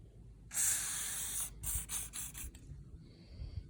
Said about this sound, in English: I'm just gonna soak this thing in WD-40